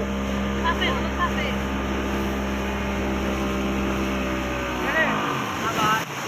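A motorboat engine drones steadily and close by on the open water of Hakaluki haor, a wetland in Sylhet, with voices faintly underneath.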